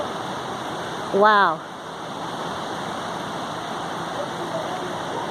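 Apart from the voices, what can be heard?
Willamette River flowing water in a ravine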